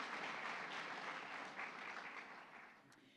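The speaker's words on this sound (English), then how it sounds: "you can applaud." Audience applause at a White House Tribal Nations Summit, a steady wash of many hands clapping that holds strong before gradually thinning toward the end, with no voices over it.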